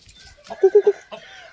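A young Thai fighting rooster, about six or seven months old, gives three quick clucks in a row, close and clear, framed by quieter rustling.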